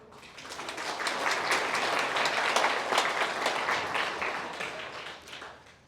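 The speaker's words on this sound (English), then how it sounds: "give her a clap as well" An audience at a public forum on land use and smart cities in the Hunter claps for a speaker, with steady, dense applause rising quickly and holding for about six seconds before tapering off.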